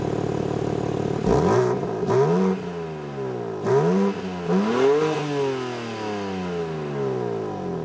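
A 2025 BMW M4 Competition xDrive engine idles in regular mode, then revs sharply several times, each blip rising and falling in pitch, close by and loud, before settling back to idle.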